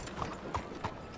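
Horse hooves clip-clop at an even walking pace in the video game Red Dead Redemption 2, four soft evenly spaced steps over a low background hum.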